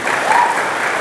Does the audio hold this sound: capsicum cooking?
no